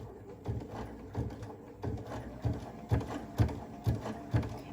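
A Baby Lock sashiko quilting machine stitches a quilt with steady, rhythmic mechanical clunks repeating about twice a second, close and moderately quiet, with no voices.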